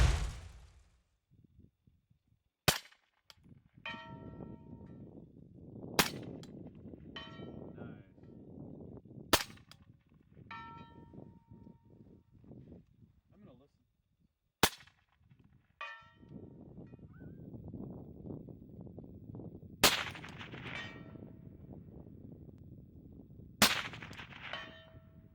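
A compact 338 ARC Odin Works rifle fires Hornady ammunition at a 200-yard range: seven sharp, loud shots spaced several seconds apart, each followed by a metallic ring from the steel target. Quiet handling noise and murmured talk fill the gaps.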